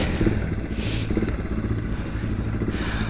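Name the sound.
motorcycle engine starting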